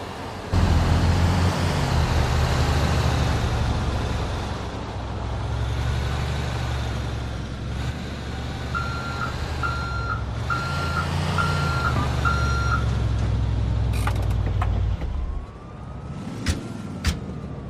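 A stolen truck in GTA IV rumbles with a low engine drone while a series of reversing beeps sounds midway, followed by sharp clanks and a dip in the engine noise near the end, no speech.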